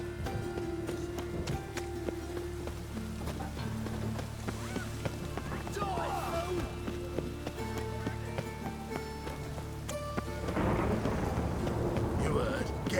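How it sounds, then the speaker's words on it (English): Stormy weather in The Witcher 3 open-world game, a low rumbling roll of thunder with rain-like hiss, swelling louder near the end, mixed with game ambience and other effects. "A storm, damn it."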